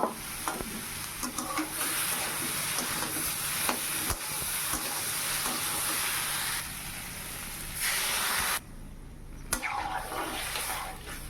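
Water poured into a simmering potato and pointed gourd curry gives a dense, close hissing sizzle with churning and stirring, briefly dipping before surging back.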